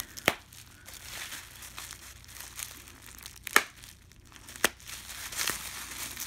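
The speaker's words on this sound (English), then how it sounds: "So I shall use my friend, the Bic cap, to help us slice through this tape." A Bic pen cap slicing through packaging tape on a parcel: a few sharp crackling tears and crinkling plastic rustles, close and fairly quiet, with brief louder snaps between softer scraping.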